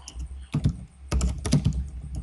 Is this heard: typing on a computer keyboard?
yes